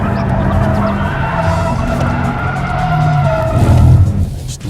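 Car tyres skid and squeal during a drifting attempt, a loud continuous screech over engine roar that swells and wavers, close by and sustained for several seconds.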